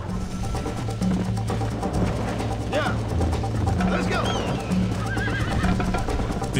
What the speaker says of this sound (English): Tentei frear o cavalo